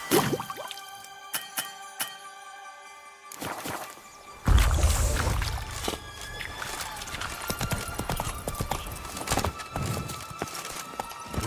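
Roach, Geralt's horse in The Witcher 3: Wild Hunt, Blood and Wine, clip-clops at first, then breaks into a louder, faster run of hoofbeats over a rumbling game soundscape, with scattered clicks and short voices nearby.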